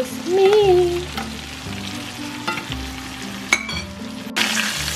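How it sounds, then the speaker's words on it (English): A steak fries loudly in a hot pan while being basted with thyme, a strong steady sizzle broken by scraping and clinking of a spoon against the pan, with a brief sharp clatter near the end. "Literally do not stop basting your steak."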